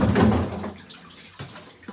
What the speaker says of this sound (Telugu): ఏ బాటిల్ అయిపోతే ఆ బాటిల్ ఎమ్మడి ఎమ్మడి కడిగేసేసి తోమేసి మళ్ళీ వాటర్ నింపేసి పెడతా